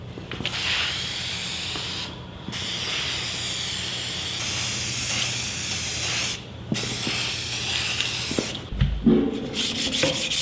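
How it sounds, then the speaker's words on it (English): Sandpaper of 220 or 320 grit is rubbed over a clear-coated wooden picture frame, giving a continuous close, hissing scrub broken by a few short pauses as the stroke resets. "buff it with 220 or 320 grit sandpaper"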